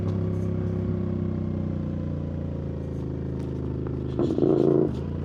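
A CFMoto 450MT motorcycle fitted with an aftermarket exhaust, its engine running steadily and then burbling and swelling louder for a moment as the throttle is cracked open.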